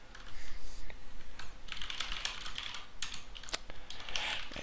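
Someone types on a computer keyboard while entering a launcher command for a Minecraft mod, producing close, irregular bursts of clicking keystrokes with short pauses between runs.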